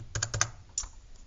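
Numbers being entered into a spreadsheet on a computer keyboard: a short burst of four or five quick close key taps, then a single louder keystroke, like pressing enter.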